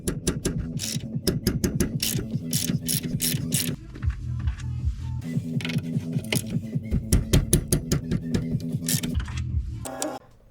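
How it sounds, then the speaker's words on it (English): Ratchet wrench working the two 17mm bolts on a brake caliper bracket during a ball joint and control arm job, a loud steady run of close clicking strokes with a short pause near the middle and near the end. "here we're going to be taking off the two 17mm bolts for the brake caliper bracket"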